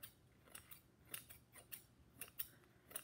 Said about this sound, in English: take your scissors, and kind of just trim it a little bit.